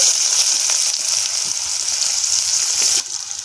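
Chopped onion with white cumin and dried red chilli sizzles in oil left from frying fish for a Bengali aila fish jhal, a steady bright crackle that runs with no voices.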